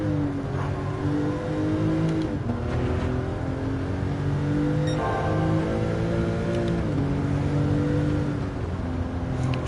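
A Porsche race car in Gran Turismo 7 revs hard and continuously, its engine pitch climbing and then dropping at each gear shift, loud and close throughout.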